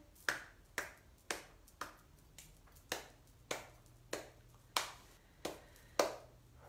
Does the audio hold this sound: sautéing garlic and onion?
no